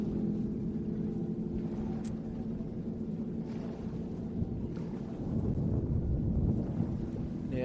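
Distant offshore superboat engine at an Australian Offshore Superboat Championship on Lake Macquarie, carried across the water as a steady low rumble for the whole clip, mixed with wind buffeting the microphone.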